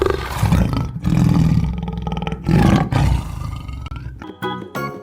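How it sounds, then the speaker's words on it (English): A tiger lets out loud, rough roars in two or three heavy bursts close by, with no voices over it. "Oh, a tiger has appeared."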